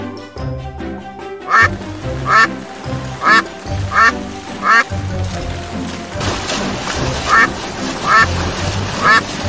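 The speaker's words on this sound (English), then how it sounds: "D for Duck." Duck quacking in short, loud repeated bursts, about eight evenly spaced quacks over a backing of music, with no voice speaking over them.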